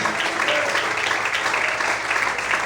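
A church congregation applauds during an evening worship service, a loud, dense wash of clapping that holds steady throughout without speech.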